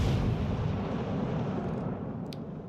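A battleship's big gun fires a shell in World of Warships Legends, a loud, deep blast whose heavy rumble fills the moment and slowly fades with no voices over it.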